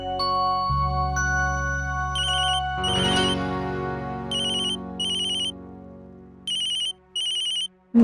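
A telephone ringtone rings in a domestic scene from a Hindi TV drama, its bright, repeated electronic bursts coming in short pulses over a background music bed, clear and fairly near.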